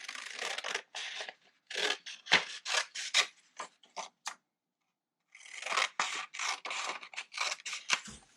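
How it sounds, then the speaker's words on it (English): Scissors snip through paper as a cape is cut out, in close, crisp runs of short cuts with a pause in the middle before another quick burst. "Carefully cut out on those gorgeous lines you drew"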